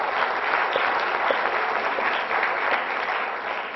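A school audience applauds freshmen being introduced at an assembly, a steady, dense wash of many hands clapping at once that holds even and strong throughout without pause.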